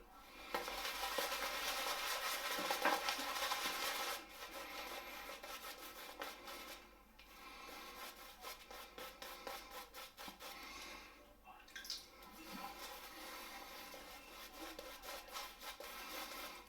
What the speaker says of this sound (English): This could be quite a long lathering process